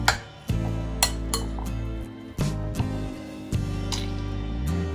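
A marinade of cooking wine, egg white and cornstarch for sweet and sour pork is stirred in a bowl, with repeated sharp clinks of utensil on dish over a steady low background hum.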